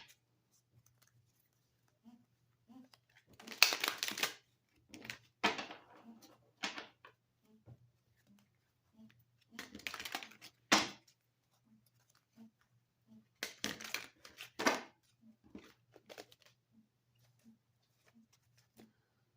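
Tarot cards being reshuffled by hand on a table, giving soft papery riffles and slaps in irregular bursts with pauses between, fairly close and quiet, with faint small taps in the gaps.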